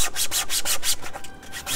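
A wooden helmet stand being sanded by hand gives quick, close, rhythmic rubbing strokes, roughly five per second, with nothing else heard.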